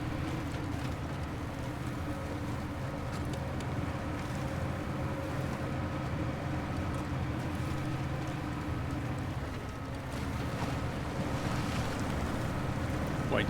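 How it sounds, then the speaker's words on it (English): A vehicle in the SnowRunner game splashes through water, a continuous hissing wash over a low, steady engine drone that lasts throughout. "did I just hear the water splashing sound that used to be in the game?"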